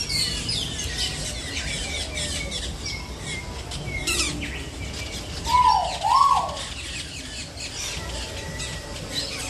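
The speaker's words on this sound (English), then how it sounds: "These birds will fly like inches from your head sometimes. There's so many in here." Birds call loudly around their large nests in a busy park, two prominent squawks standing out over a dense wash of chirps and crowd noise.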